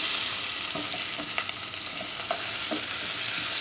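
Chopped onion sizzles steadily in melted ghee, a dense continuous hiss broken by soft clinks and scrapes of stirring, close and alone.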